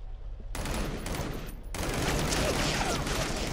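Guns firing in the Crisis on the Planet of the Apes VR game: a burst of loud gunfire begins after a short quiet lead-in, broken by a brief gap, then resumes as continuous rapid automatic shooting that grows denser toward the end.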